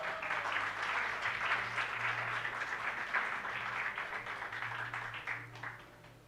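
Congregation at a New Year's church service applauding, continuous clapping from a room full of people over a low steady hum, tapering off near the end.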